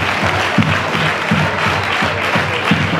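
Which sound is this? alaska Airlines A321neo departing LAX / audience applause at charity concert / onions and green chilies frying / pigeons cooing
audience applause at charity concert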